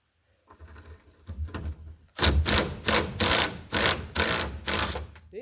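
An impact wrench removes bolts from a Ford F600 truck in a run of loud, close hammering bursts, each lasting a fraction of a second and separated by short pauses.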